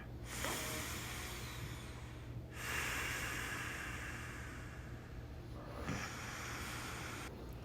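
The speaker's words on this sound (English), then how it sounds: "Take a few more deep breaths here." Deep breathing during a yoga class, with three slow, long airy breaths, each a steady broad hiss, close and fairly soft, with no talk over them.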